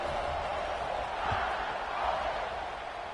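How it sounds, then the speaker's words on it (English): Crowd noise in the College Football 26 video game fills a stadium with a steady, moderately faint buzz that swells slightly and fades, with no distinct individual voices. "this crowd is buzzing after that last score."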